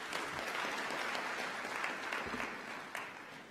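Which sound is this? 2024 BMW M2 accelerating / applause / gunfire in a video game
applause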